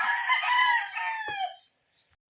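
A rooster crows once, loud and close, with a long drawn-out call that ends abruptly, followed by near silence and a faint knock.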